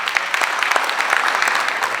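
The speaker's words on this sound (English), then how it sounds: "Can we give him a round of applause?" An audience at a high court seat meeting applauds the Minister of Justice: dense, lively clapping from many hands, loud and sustained throughout.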